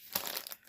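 A paper pattern from a stamped cross stitch kit is crumpled in two quick crinkling bursts, close and crisp, with no speech.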